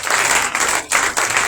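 A church congregation at a Feast of Tabernacles opening conference applauds and cheers for Jesus, a loud, dense wash of clapping with brief dips, filling the whole moment.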